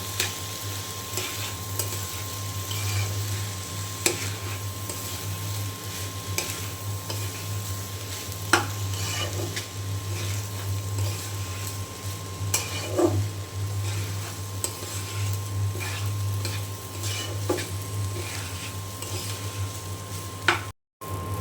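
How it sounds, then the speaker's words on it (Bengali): Rice fries in ghee, a continuous even sizzle under frequent soft stirring scrapes and the occasional sharper knock of a spoon on the pot, with a steady low hum beneath and a brief dropout near the end. "এখন ঘির সঙ্গে খুব ভালো করে আমি চাল ভেজে নেবো"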